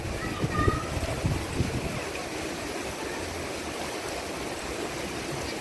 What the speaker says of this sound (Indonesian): Kita lihat airnya sangat deras dan pekat hitam